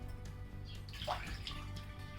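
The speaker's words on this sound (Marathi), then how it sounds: "त्यामध्ये मी आता दोन कप पाणी घालते" Water pours into a heated kadhai with a soft, steady splashing and gurgling, faint and continuous over a low background hum.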